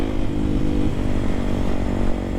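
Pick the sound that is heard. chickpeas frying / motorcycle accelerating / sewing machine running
motorcycle accelerating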